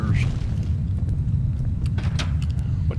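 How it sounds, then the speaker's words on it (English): A deep, rumbling explosion in the Max Payne video game, a sustained low boom that rolls on for the whole stretch with a few sharper cracks on top, loud and close. "Oh no. Explosion. Explosion!"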